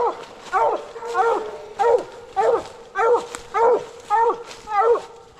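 A coonhound bays repeatedly while trailing through a hollow on a night coon hunt, with eight or nine drawn-out howling barks at steady intervals, moderately distant and loud.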